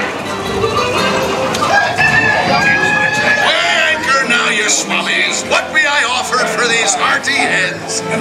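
Hens cluck and a rooster crows inside a Magic Kingdom ride, loud and busy over music and a babble of voices, with repeated squawks layered throughout.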